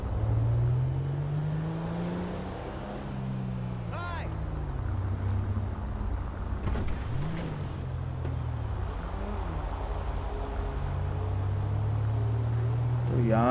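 A Land Rover Defender 110 in GTA 5 driving slowly through city streets, its engine giving a low, steady hum that rises and falls in pitch, with a few brief chirps over the top.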